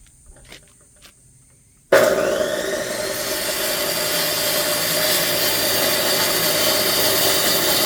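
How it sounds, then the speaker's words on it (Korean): A saw cuts through a firewood log beside a country house. After a quiet start with a couple of light knocks, a loud, continuous grinding rasp with an engine-like hum begins abruptly and runs steadily to the end. "나무를 한번 잘라 보도록 하겠습니다"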